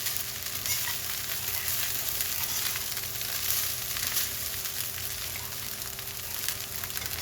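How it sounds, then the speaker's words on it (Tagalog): Rice stir-fried in a pan for Filipino garlic fried rice, toasted until slightly reddish, giving a constant close sizzle with intermittent scraping and tossing, no voices. "Halo-haloin hanggang yung kanin medyo pumula siya para masarap."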